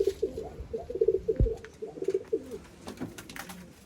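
Pigeons coo from inside a loft cage, rolling low calls repeating in short bursts several times, close and clear with no talk.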